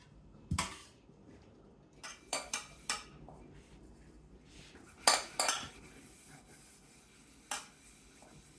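Dishes and tea cups being washed in a home kitchen: scattered clinks and clatters of cutlery and crockery, with soft rubbing and scrubbing in between, close and fairly quiet, with no one talking.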